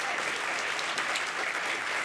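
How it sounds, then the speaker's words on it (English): Audience applause at a school winter concert, a steady dense wash of clapping that holds evenly from start to finish with no voices over it. "Let's give them a round of applause"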